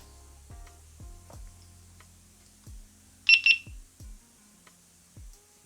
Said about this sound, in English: it's just the beeps twice, so which means the camera is connected